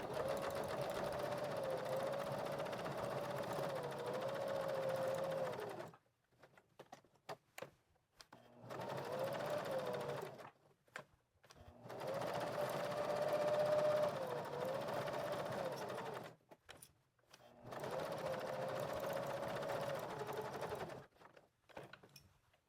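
A sewing machine stitching fabric scraps into collage fabric runs in four steady bursts of rapid whirring stitches, each a few seconds long, separated by quiet pauses with small handling clicks while the fabric is turned.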